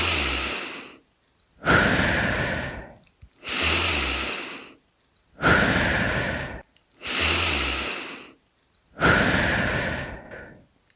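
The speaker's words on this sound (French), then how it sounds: "3 vastes inspirations." Five slow, deep breaths come during a guided sophrology relaxation session. Each is a long, airy rush of breath in and out, heard close and separated by short silences.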